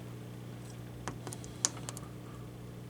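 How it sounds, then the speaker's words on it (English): A handful of faint, scattered key presses on the keypad of a Kidde FX Series fire alarm panel, light clicks over a steady electrical hum with no speech. "Oh, I gotta type in my password."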